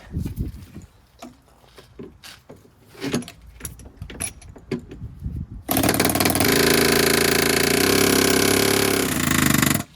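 Clicks and clanks of handling tools come first, then a pneumatic air hammer kicks in on a John Deere 240 skid steer repair, loud and continuous, hammering for several seconds before stopping abruptly.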